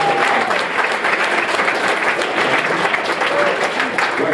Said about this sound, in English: So a big round of applause for Steve.